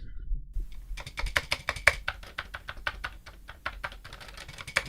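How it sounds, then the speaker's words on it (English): Keys being pressed on an old 8-bit computer keyboard with a possible fault, a quick irregular run of crisp close clicks and clacks lasting several seconds with no talking. "I'm pressing all the any keys."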